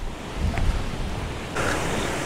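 Steady roaring wind buffets the microphone on Table Mountain, a broad rushing noise that swells louder partway through.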